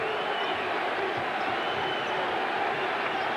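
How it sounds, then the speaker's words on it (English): Dense roar of an enthusiastic crowd at Madison Square Garden during a 1988 Bulls–Knicks NBA basketball game, a steady wash of cheering and chatter filling the arena throughout with no single voice standing out. "This Garden crowd is enthusiastic tonight."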